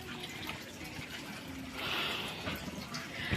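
Water gushes and hisses from a spring that has appeared in front of a house, a steady close rush with brief louder surges.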